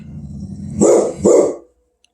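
Two quick, loud dog barks close by, following a low rumble from a tree being cut down nearby, then silence.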